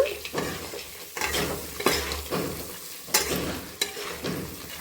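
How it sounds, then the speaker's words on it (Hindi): Peanuts and vegetables fried and stirred in a pan while making poha, with repeated scraping strokes of a spoon over steady sizzling, close and moderately loud, no talking. "सब्जी के बाद जाएगा हमारा मूंगफली।"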